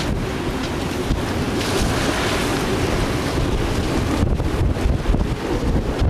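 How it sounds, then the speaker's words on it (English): Surf washing over the top of a reef at Minerva Reef, with steady broadband wave wash and heavy wind buffeting the microphone throughout, no voices. "So we should have a little bit of that surf coming over the top."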